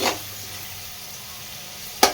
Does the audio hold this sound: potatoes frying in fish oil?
yes